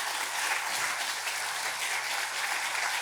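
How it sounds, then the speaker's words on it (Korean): Sustained applause from a Won Buddhist temple congregation during a dharma talk, a dense steady wash of clapping with no voices over it. "그 사람들을 위해서 다시 한번 힘찬 박수 쳐드리겠습니다."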